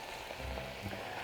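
Bean broth with grain syrup (jocheong) bubbling vigorously in a pot for a detox tea: a faint, steady sizzling and bubbling texture, continuous and soft, with no voices.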